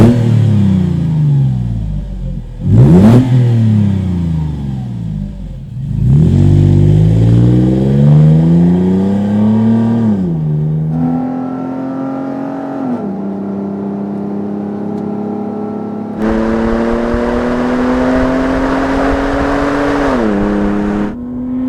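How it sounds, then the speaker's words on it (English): A Borla exhaust on a 2010-2014 Toyota FJ Cruiser revs up and down several times, the engine note rising and falling in loud close-up sweeps, then settling into steadier held revs. "you also get that classic Borla sound"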